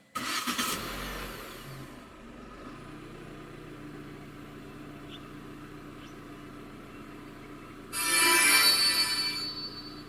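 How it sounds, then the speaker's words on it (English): A 2023 Proton Persona 1.6 started by push button: a loud burst of starter and engine catch at the beginning, then a steady low idle hum, and a second bright, loud surge near the end. "Put your foot on the brake and press the start button to the right of the steering wheel."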